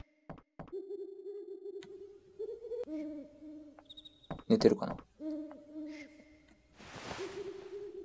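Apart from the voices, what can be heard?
bird hooting in the video game Final Fantasy IX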